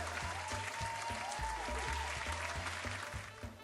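Audience applause at the close of a quiz show, dense continuous clapping from a crowd, fairly faint and steady, mixed with background music.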